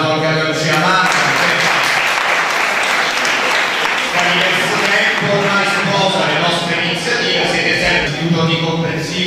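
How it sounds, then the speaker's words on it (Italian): Audience applause at a centenary conference of the Ardizzone Gioeni institute for the blind, steady dense clapping filling the hall throughout, loud and continuous with some voices mixed in. "che è un applauso anche a Lucia Mangano"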